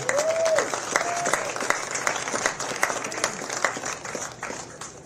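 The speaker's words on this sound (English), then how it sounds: "one more round of applause for the men, please" Spectators at the North & South Amateur Championship at Pinehurst No. 2 applaud the new champions: steady, dense clapping from a nearby crowd through the whole stretch, with a brief whistle near the start.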